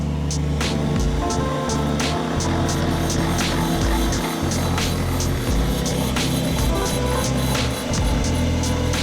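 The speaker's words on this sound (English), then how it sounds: "we're going to go ahead and turn it back on. We're going to feed the cutter back into the drum to the bottom" Brake lathe cutter fed into a brake drum, a steady loud mechanical drone with low motor hum and repeated sharp scraping ticks, running continuously with no talk.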